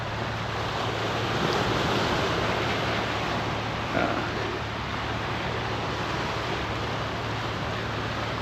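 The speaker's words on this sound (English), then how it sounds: "As you can see, pretty close to the ocean here." Ocean waves wash steadily on the rocky shore at Seawall in Acadia National Park, a constant broad surf rush with wind noise and one brief thump, no talk.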